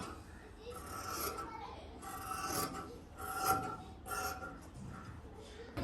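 Scissors rasp and snip repeatedly through nightie fabric while the back piece of a kurti is cut out, a close, steady scratchy cutting sound with voices talking softly in the background.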